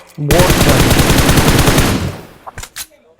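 Rapid automatic gunfire in the PUBG video game, a loud sustained burst of about two seconds followed by a few separate shots as it tails off.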